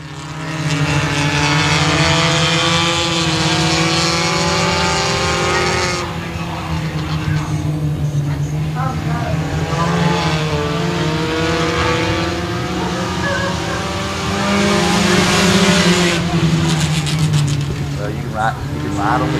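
Race cars roar around the track at Sabine Speedway, a dense, continuous engine drone with rising and falling pitch as cars pass, loud and sustained throughout, with a track announcer talking over it.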